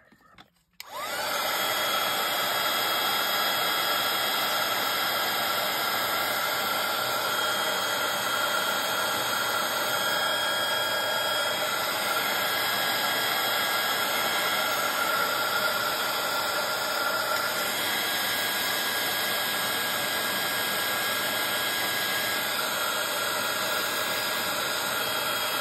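A heat gun blows loudly and steadily while heat-setting a mixed media tile made from leftover materials, starting abruptly after a brief moment of quiet and roaring on without a break.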